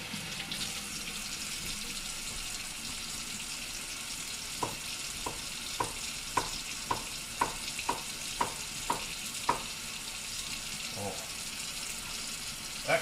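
Running tap water rinsing dirt off a vegetable being prepared for turkey noodle soup, a steady close splashing wash with a run of about ten evenly spaced clicks partway through.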